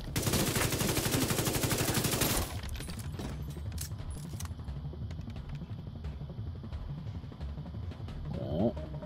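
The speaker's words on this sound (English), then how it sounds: "I don't know how she's shooting like that, man." Heavy rapid gunfire from The Division 2, a dense automatic burst for the first two seconds, then scattered shots and rumbling combat noise with a brief rising tone near the end.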